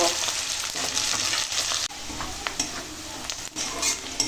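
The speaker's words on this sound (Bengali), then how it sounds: "এখন দিয়ে দেবো পেঁয়াজ কাঁচা লঙ্কা আর রসুন একসঙ্গে ভেজে নেব" Chopped onion, green chili and garlic fry together in hot oil in a wok, giving a loud, steady sizzle broken by stirring scrapes and clatter throughout.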